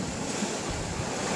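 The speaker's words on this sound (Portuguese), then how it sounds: "É mais vento e essa garoa forte" Wind and light drizzle sweep across a sailboat crossing the Atlantic, a dense, steady hiss and rush that fills the air with no voices.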